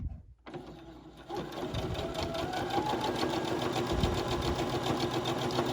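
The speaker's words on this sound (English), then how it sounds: "And we just go ahead and sew our perimeter." A sewing machine starts up after a brief pause and stitches along the edge of a small project, its rapid rhythmic needle clatter running close and continuous to the end.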